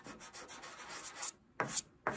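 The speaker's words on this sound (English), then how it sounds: "sand it down like this, the whole thing. See, so it's flat like that." A wooden part of an 1867 Chickering 33B piano is sanded flat by hand, making steady, close rubbing strokes that pause briefly before two more sharp passes.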